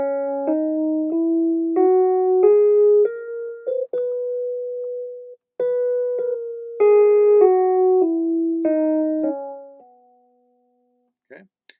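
Single clear pitched notes step upward one at a time through a major scale and back down, each note sustained and clean with a short pause in the middle, ending in near silence.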